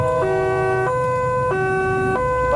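Ambulance siren sounding while carrying a patient, a loud two-tone wail alternating steadily between a lower and a higher pitch over a faint road rumble, with no talk.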